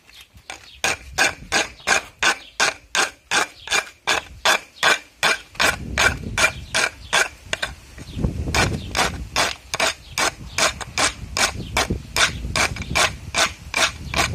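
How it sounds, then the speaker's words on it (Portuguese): A helmet mechanism clicks in a steady rapid ratcheting rhythm, metal knocking against metal with sharp repeated clacks, close and loud, with faint handling noise underneath. "Esse barulho é porque tá batendo aqui ferro com ferro."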